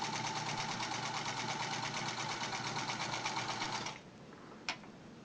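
A Sears Model 28 sewing machine runs steadily at close range with a fast, even mechanical whir and rapid needle ticking, then stops abruptly, leaving a faint hum and a single brief click.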